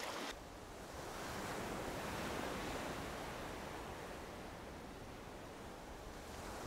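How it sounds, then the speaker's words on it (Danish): Large breaking waves on a sea coast where people fish for sea trout, a steady broad roar of surf with wind, continuous and fairly quiet, no voices. "vi har fisket herude i de her store bølger her, eller brændinger, i en par dage nu"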